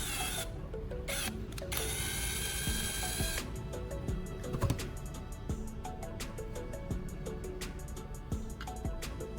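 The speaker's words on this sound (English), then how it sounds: "I drill a hole on the side of the charger casing" A power drill bores a hole through the side of a plastic phone charger casing, with mechanical ratcheting and clicking bursts, a steadier whirring stretch early on, and sharp intermittent clicks, close and fairly loud throughout.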